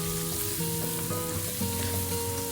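Shallots and minced garlic stir-fry in a pan with melted rock sugar, giving a steady, close sizzle and crackle with faint stirring and no talk.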